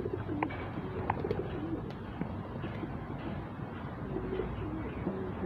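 Racing pigeons cooing in a loft, soft repeated throaty coos over a dense, steady background murmur of the flock, with a few faint chirps scattered through.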